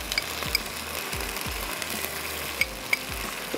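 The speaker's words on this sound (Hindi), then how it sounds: "ज़ीरे को भून लें" Coriander seeds and cumin dry-roasting in a karahi, a soft steady hiss with intermittent scraping strokes of a spoon and a few sharp metallic ticks, close and voiceless.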